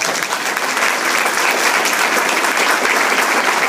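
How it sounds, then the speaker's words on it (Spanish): Loud, steady applause from a large church congregation, dense clapping sustained throughout without pause. "Denle un fuerte aplauso al Señor."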